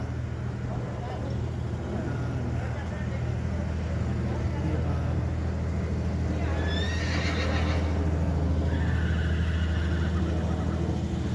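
Horses whinny loudly mid-clip, foals calling after being separated from their mother, the neighs rising over a steady low engine-like hum with faint background speech.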